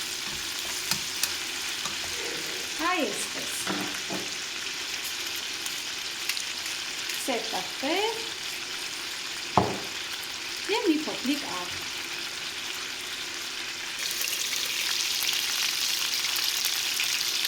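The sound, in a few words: meat frying in a pan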